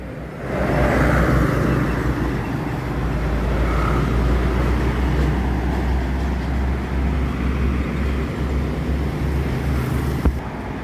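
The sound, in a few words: bus approaching on a wet road, traffic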